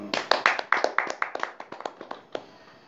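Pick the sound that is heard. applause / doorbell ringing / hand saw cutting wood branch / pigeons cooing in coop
applause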